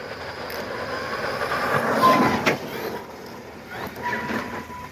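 An Arrma Outcast V2.0 RC car on a 3S battery runs at full throttle, its electric motor whining and rising over a rumbling, rattling drivetrain. It swells loudest midway, with a voice briefly nearby.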